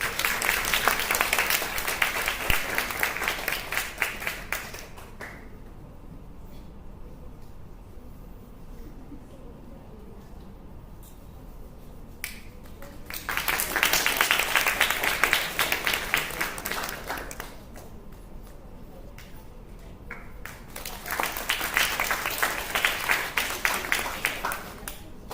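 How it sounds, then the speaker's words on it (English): Applause from a seated audience at a college event welcoming a dignitary, in three loud bursts of dense clapping separated by quieter stretches with a low murmur of voices. "welcome him with big round of applause"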